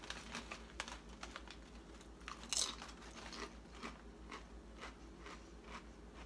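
Puffed potato snack being crunched and chewed up close, with irregular crisp bites and crackly chewing that rise to a sharper crunch midway, and no talking.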